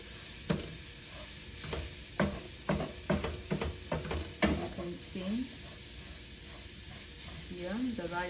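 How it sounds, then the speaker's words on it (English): Rice toasting in a pan for leek and gorgonzola risotto, a soft sizzle with intermittent scraping stirs, faint and close, with a voice briefly speaking over it. "Here the rice is toasting."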